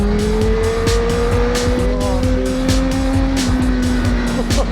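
A 2008 Honda Fireblade sportbike is ridden hard, its engine a loud, continuous drone with whining tones that climb in pitch as the revs rise.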